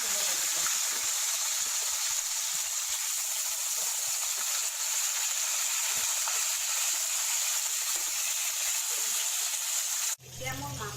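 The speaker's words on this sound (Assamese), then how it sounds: "এতিয়া মোৰ মাছখিনি ভাজা হ'ল, গোল্ডেন ব্ৰাউন হৈছে" Fish pieces frying in hot oil until golden brown for fish kaliya, a steady, dense hiss of sizzling oil that holds evenly for about ten seconds before cutting off abruptly.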